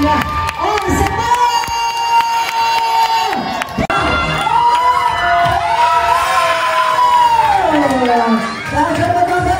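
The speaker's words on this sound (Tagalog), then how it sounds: "Palakas ang malakas sa palakpakan at sigawan!" A lively crowd of adults and children at a 70th birthday party game cheers and shouts loudly together, voices overlapping in rising and falling whoops with scattered claps beneath.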